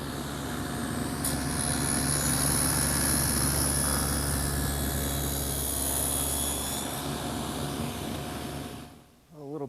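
A power tool cuts a groove into the side of an oak workpiece, a loud continuous whining roar that holds steady for about seven seconds before winding down and stopping.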